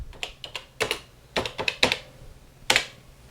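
Keys clack on a TRS-80 CoCo computer keyboard as the date is typed, in a few close, irregular taps and short bursts.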